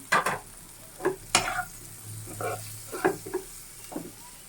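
Rui fish frying in a pan with masala and a little tomato, stirred with a spatula; nearby scrapes and soft sizzling come in short bursts over a steady low hiss.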